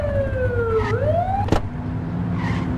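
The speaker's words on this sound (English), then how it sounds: "Get on their tail and blip the siren." Police car siren in the game The Precinct: a wailing electronic tone sweeping down then up, cut by a sharp short blip, over a steady engine and road rumble with no talking.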